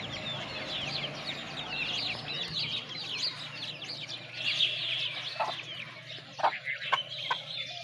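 Chickens cluck at close range while being fed outdoors, a dense, steady chorus of clucks and calls running through the whole stretch with a few louder squawks near the end.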